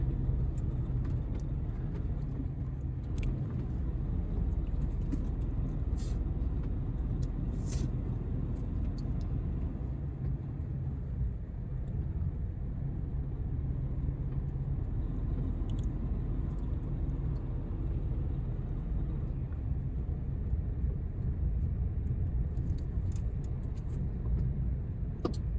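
A truck rolls slowly over a rough, damaged road, its engine a steady low rumble with faint rattles and knocks from the body, continuous and close throughout.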